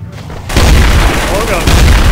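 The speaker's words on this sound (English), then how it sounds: "That is not a banana. That is an explosive." In the multiplayer game Trouble in Terrorist Town, an explosive disguised as a banana goes off. The sudden, very loud boom bursts out after a quiet moment and rumbles heavily through the rest of the clip, with voices mixed in.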